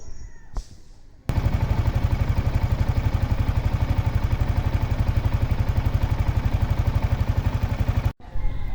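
A Yamaha Sniper 155 motorcycle engine, under water pump repair and coolant refill, starts abruptly and then idles in a fast, steady, close putter for several seconds before cutting off sharply.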